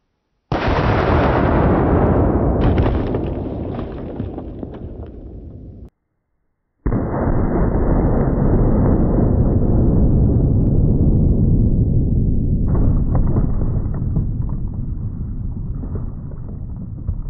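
Bullets strike homemade body armor in two very loud, sustained roaring blasts that are heavy and distorted, separated by a brief silence, with no voices.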